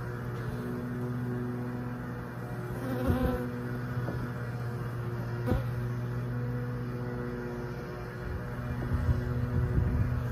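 Honey bees being installed into a new hive give a continuous, close buzzing drone, with a few louder swells as bees pass near.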